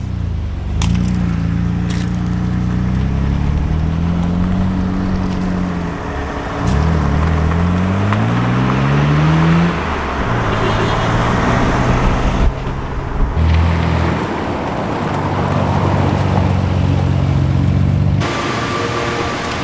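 A 1995 Nissan R32 GTR drives on the road, its engine droning steadily and rising in pitch through repeated gear changes with revving surges, loud and close for the whole stretch.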